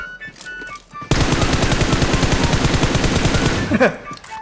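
Automatic gunfire in the mobile battle royale game PUBG Mobile, a sustained rapid burst of loud, evenly spaced shots lasting about two and a half seconds, with quieter game sounds and a brief voice around it.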